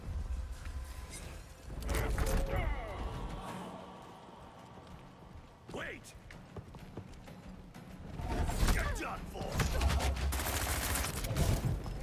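Gunfire in the video game Unknown 9: Awakening comes in several loud bursts of rapid shots mixed with clattering mechanical sounds and impacts, with quieter stretches between the volleys.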